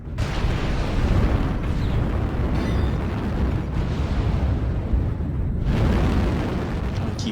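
Mech weapons fire and explosions in MechWarrior Online, a dense, loud, continuous barrage of booming blasts and rumbling bursts with no break.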